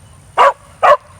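Maccabee, a farm dog, lets out two sharp, loud barks about half a second apart, close up and clear against a quiet background.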